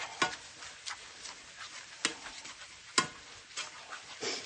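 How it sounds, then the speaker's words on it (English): Granola stirred in a pan on a stovetop gives sparse, quiet scraping clicks, a few sharper ticks spaced about a second apart over faint background hiss. "Stir it for a minute."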